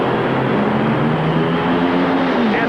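John Force's nitro funny car engine howls at full throttle through a 1990 drag racing run, a loud, dense, continuous roar with a slowly shifting pitch and no talk over it.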